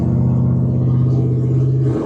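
A supercharged Ford F-150 pickup's engine drones loud and close in a steady low growl that holds for about two seconds before easing off, with no voices.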